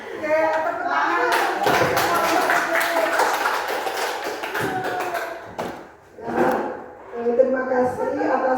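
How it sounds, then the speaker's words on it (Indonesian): Applause and hand clapping fill most of the stretch in a classroom lesson on positive discipline, with voices talking throughout. The clapping thins briefly near the end before talk continues. "Oke, tepuk tangan."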